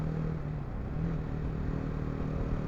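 A BMW G310 GS motorcycle engine hums along at steady motorway speed, a close, constant drone mixed with road and wind roar, with no change in pace.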